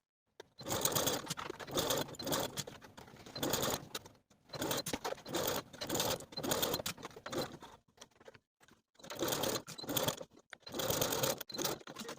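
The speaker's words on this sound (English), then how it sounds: "Now we can sew from one end of the binding to the other with a 5/8 inch seam allowance" A sewing machine stitches a binding seam with a 5/8 inch seam allowance on a 1940s-style blouse, running in three long steady bursts separated by short pauses.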